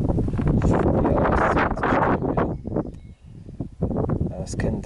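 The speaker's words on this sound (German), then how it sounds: "Und hier oben geht ein schöner Wind." Steady wind blowing across an open summit of the Kalmit, the highest mountain in the Palatinate Forest, roaring and buffeting the microphone in loud continuous gusts with a brief lull midway.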